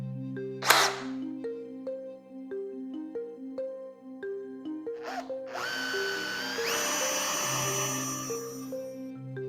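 A CNC machine drills a starter hole, its spindle whine steady with stepped pitch changes, then a harsher, louder cutting burst as the bit bites into the workpiece, close and without talk.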